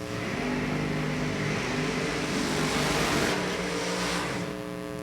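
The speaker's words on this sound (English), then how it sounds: "How about that rumpity-rump of that supercharged machine over there in the summit lane?" Supercharged drag racing car idling in its lane before a run, a loud, steady, lumpy engine rumble at moderate distance with a slight swell midway, no voices over it.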